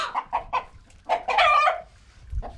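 A chicken being attacked by dogs squawks loudly in a rapid series of harsh, agitated calls, close by, with a short pause before one last squawk.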